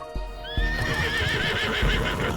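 A horse gallops in the video game Love and Deepspace, its hoofbeats thudding in a steady rhythm under a high sustained music line, close and fairly loud with no talk.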